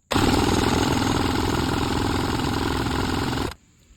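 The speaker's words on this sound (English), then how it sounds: "I'm going to hold it wide open throttle and crank it over for about 10 seconds." A Polaris SL700 jet ski engine is cranked over at wide open throttle for a compression test, with a loud, rapid, rhythmic starter churn that runs steadily for about three and a half seconds and then stops abruptly.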